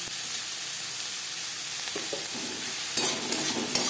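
Fasha fish jhal being stirred in a pan with salt, turmeric, onion, tomato and garlic, a steady frying sizzle underneath with scraping stir strokes growing busier toward the end.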